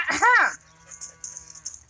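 A cow on a farm lets out one short, loud moo that rises and falls, followed by quiet background rustling and faint knocks.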